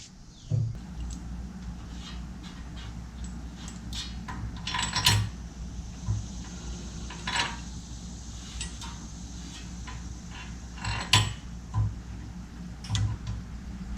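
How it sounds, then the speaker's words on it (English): Metal taps, clicks and light clinks come at an irregular pace while a bolt is worked through a track bar bracket mount, close by in a quiet workshop, with a faint steady hum underneath. "All I gotta do is put a bolt through this little mount here."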